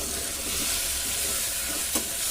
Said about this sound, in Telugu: టమాటాలు వేసుకుందాం ఒకసారి కలుపుకుందాం